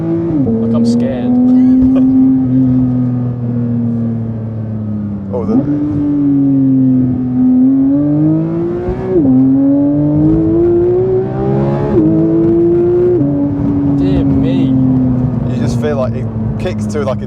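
A Porsche 992 GT3 engine revs and pulls hard while driving, rising and dropping in pitch through several gear changes, loud and continuous with people talking over it from inside the car.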